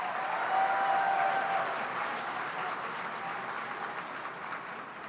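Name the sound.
gala audience applause for Speaker Tina Kotek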